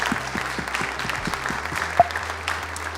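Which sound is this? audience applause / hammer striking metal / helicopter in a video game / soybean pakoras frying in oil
audience applause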